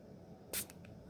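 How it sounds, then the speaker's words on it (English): A single sharp hiss of a spray bottle spritz, brief and close, followed by a couple of fainter puffs against a quiet background. "I am going to do a couple of spritzes with the spray bottle"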